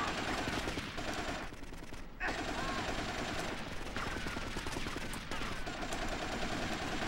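Steady automatic AK rifle fire in the video game GTA Vice City Stories rattles continuously at moderate volume, with a brief gap near the middle.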